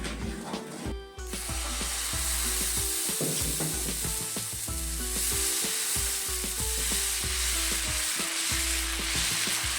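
Dosa batter sizzling and frying on a hot pan, a steady close crackling hiss with small stirring or scraping touches, no voices.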